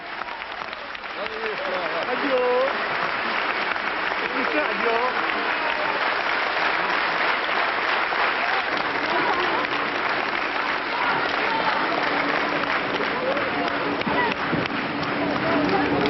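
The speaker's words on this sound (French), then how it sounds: "On vient d'apercevoir François Garat, chants, applaudissements, un accueil rare" A crowd on a train station platform sings and applauds as a TGV comes to a stop and François Garat arrives, dense continuous clapping and voices building after a quieter start.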